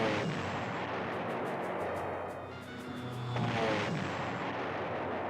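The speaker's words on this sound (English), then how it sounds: "Stuka hit the enemy armor on our flank." Stuka dive-bomber strike on enemy armor in the PlayStation 1 war game Panzer General, heard as a dense, continuous roar of blasts and rumbling explosions, loud throughout with a brief dip before swelling again.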